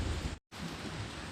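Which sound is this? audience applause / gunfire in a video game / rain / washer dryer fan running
rain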